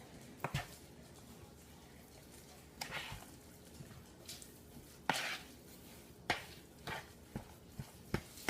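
Meatloaf mixture being mixed with breadcrumbs in a bowl, soft irregular thuds and scraping knocks spaced a second or so apart, fairly quiet and close.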